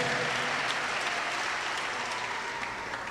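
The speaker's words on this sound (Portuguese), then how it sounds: "Vamos aplaudir o Senhor Jesus." A church congregation applauds in a dense, steady wash of clapping that fills the whole moment with no pauses.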